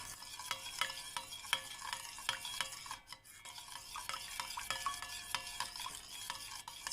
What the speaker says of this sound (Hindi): तो अब दही और तेल इन दोनों को अच्छे से मिला लें।